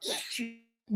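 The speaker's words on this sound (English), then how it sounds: "I'm finna sneeze." A single sharp, close sneeze burst followed by a brief voiced sound.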